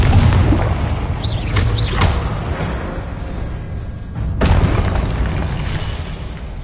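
In Hogwarts Legacy, an Incendio fire spell bursts out with a loud, booming whoosh, then a rumbling roar that swells again in a second burst near the end.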